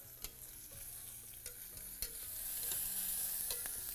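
Bell pepper sautéing in a little oil in a pan, a steady broad sizzle throughout with occasional sharp clicks of stirring, close and moderately loud, no voices.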